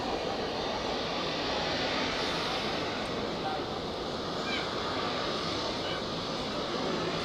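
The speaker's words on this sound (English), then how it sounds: "here we have the A350 from Vancouver. And he'll taxi by." An Airbus A350 from Vancouver taxis past at Zurich Airport, a steady, broad engine roar that holds level throughout, with no voices over it.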